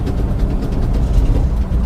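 The old, worn tires of a 1953 Ford Crown Victoria give a steady, loud, low rumble while the car drives, mixed with engine and road noise.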